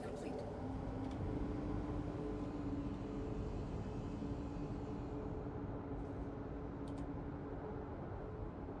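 A spaceship lifting off in Star Citizen, a steady loud engine roar with broad hissing rumble that holds evenly throughout, with a faint voice in the background.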